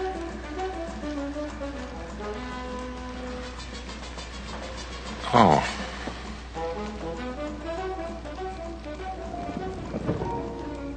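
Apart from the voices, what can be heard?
light rain drizzling, radio drama effect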